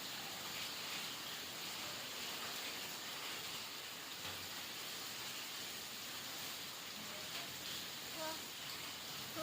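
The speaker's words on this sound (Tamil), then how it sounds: "சூப்பர் மழை." Heavy hail-mixed rain falls steadily and densely, a continuous hiss with scattered droplet pings throughout and no speech.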